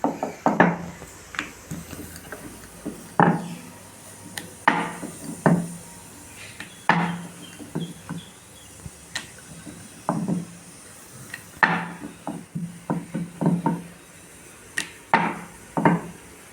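Puri dough being rolled out with a rolling pin on an oiled surface, giving repeated soft wooden thumps and rubbing strokes in an irregular rhythm, close and fairly quiet with no talking.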